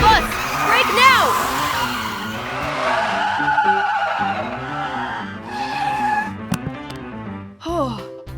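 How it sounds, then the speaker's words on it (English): A cartoon bus brakes hard beside a cliff, its tires letting out a loud, squealing skid over several seconds, with excited character voices and music around it. "Bus, brake now!"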